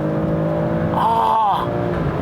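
A 2018 Alfa Romeo Stelvio QV SUV, its engine note rising and falling in a brief rev with a rich tonal swell in the middle, heard close over steady road and cabin rumble.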